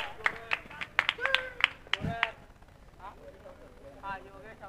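Scattered applause and claps greet the next batsman at a local cricket league match, a burst of sharp overlapping claps in the first half that fades into quieter background with voices talking.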